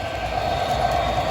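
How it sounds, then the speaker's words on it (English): An MTH New Jersey Central switcher, a conventional model train, runs with a steady, close motor hum and a rolling rumble that continues without pause, with no talking over it. "we have an MTH conventional, not computer, switcher, New Jersey Central"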